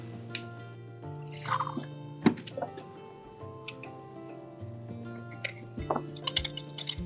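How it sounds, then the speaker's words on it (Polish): Warm water being poured and stirred to dissolve honey for lemonade gives scattered drips, splashes and light clinks against a glass, over a steady background hum. "Następnie rozpuszczam miód w ciepłej wodzie."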